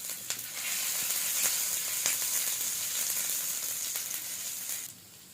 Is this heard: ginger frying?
yes